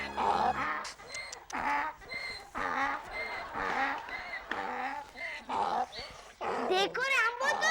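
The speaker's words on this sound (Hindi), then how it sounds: "ये कुत्ते क्यों भौंक" Dogs bark repeatedly at night in a residential setting, their calls tangled with voices that talk over them almost the whole time.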